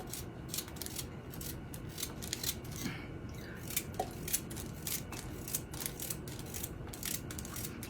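Carrots are sliced thin in quick succession, a rapid run of short crisp cuts repeating steadily at close range over a faint background hiss, with nobody talking.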